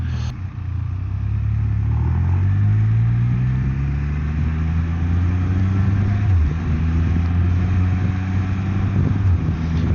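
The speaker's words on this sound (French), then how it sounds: "Toujours un bonheur de shifter ces vitesses-là" A 2025 Can-Am Spyder F3 Limited Special Series roadster engine shifting gears: a loud, close, continuous drone whose pitch climbs, drops and climbs again through the gear changes, with no speech.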